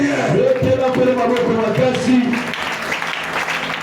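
A church congregation breaks into applause during a worship service. A loud voice rings out first, then a broad wash of many hands clapping takes over and carries on steadily.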